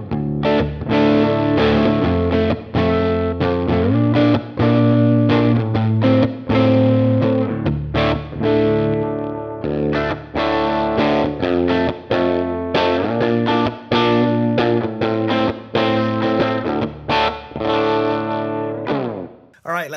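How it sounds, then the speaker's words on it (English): Yamaha RevStar RS820 electric guitar tuned to drop D, played dry with no pedal engaged: a continuous run of loud, dense chugging chords and riffs with frequent short stops, close and steady for the whole stretch. "Yamaha RevStar RS820, currently tuned to drop D. Let's hear how this one sounds dry."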